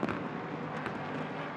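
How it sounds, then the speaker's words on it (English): Fireworks go off in the background at a race track, with a few soft distant pops and thuds over a constant wash of track noise. "Was that the fireworks in the background?"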